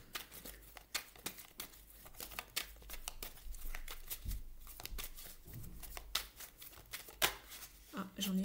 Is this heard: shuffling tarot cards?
yes